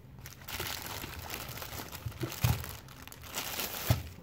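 Crinkly plastic product packaging being unwrapped from a boxed item, giving a steady close-up crackle and crumple with a few sharper tearing crunches, no talking.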